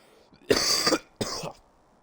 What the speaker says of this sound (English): I apologize, I'm going to cough